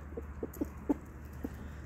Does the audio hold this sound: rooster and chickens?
yes